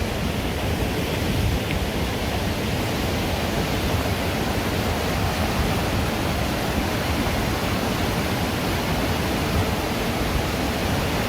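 Rushing snowmelt runoff on a mountain hike in Oye, Norway, a steady, loud broadband roar of water pouring continuously throughout with no pauses or voices.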